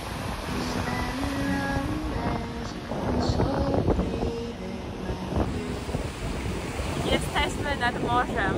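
Sea waves wash and rumble steadily on a cold Baltic shore at Gdańsk while strong wind buffets the microphone throughout, with faint tonal sounds drifting in underneath.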